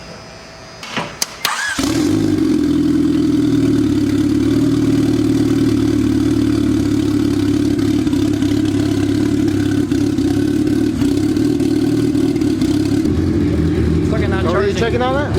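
A Honda Civic wagon engine starts and settles into a steady, loud idle that runs close and unbroken for most of the stretch, with some handling noise before the start.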